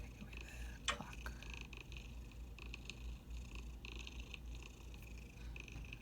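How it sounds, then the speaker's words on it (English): A cat purrs close by, a low, soft, continuous rumble under quiet room tone, with one brief sharper sound near the start. "Now I can hear the cat a lot better."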